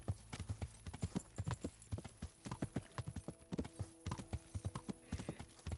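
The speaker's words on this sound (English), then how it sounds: "I love you, Pebbles. You're a good horsey." Henry's slow horse Pebbles trotting in the medieval game Kingdom Come: Deliverance, a steady run of close, crisp hoof clip-clops with a faint background tone and no talk.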